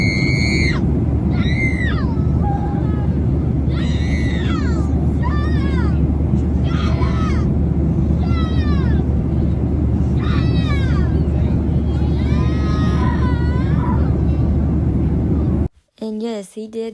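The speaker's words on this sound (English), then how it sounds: "There was this kid that would not stop screaming." A young child screams over and over on a passenger airplane flight, high piercing wails rising and falling above the steady loud roar of the cabin engines, each cry lasting about a second with short gaps between.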